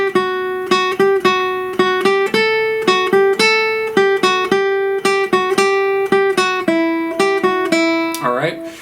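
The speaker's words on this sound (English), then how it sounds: "if you picked all the notes in the exercise at the bottom of 55, it would sound like this" A guitar plays an exercise with every note picked separately, a steady run of crisp, evenly spaced plucked notes ringing clearly and alone, ending with a brief slide.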